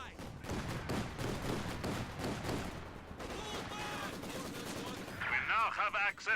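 A Maxim machine gun lays down suppressing fire in Company of Heroes 2, its rapid rattling bursts running under a voice, with other battle noise mixed in.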